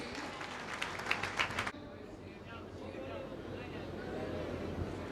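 Audience applause at a stage event for a motivational speaker, a dense burst of clapping from a crowd that cuts off abruptly after under two seconds, followed by quiet room tone.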